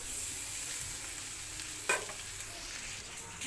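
Bitter gourd fries in a pan on the stove with a steady, close sizzle and a brief scrape of stirring partway through, no voices.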